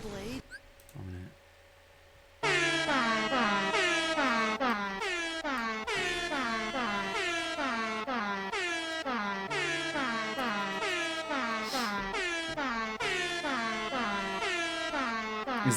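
An air-horn remix of a track from Kingdom Hearts 2 kicks in loudly after a brief quieter moment, with blaring horn blasts stacked in a steady pulsing pattern over the melody.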